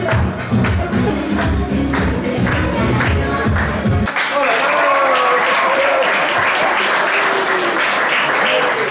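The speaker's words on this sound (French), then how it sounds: "On applaudit," Applause swells from a small group: first clattery, uneven clapping over low room noise, then after about four seconds a denser, louder burst of clapping with voices mixed in.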